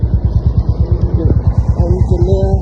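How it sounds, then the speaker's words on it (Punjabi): A motorcycle engine putters in close, fast even pulses as it rides behind a combine harvester in a wheat field at night, with short bursts of talk over it. "ਅਸੀਂ ਜਾ ਰਹੇ ਆ ਮੋਟਰਸਾਈਕਲ ਤੇ"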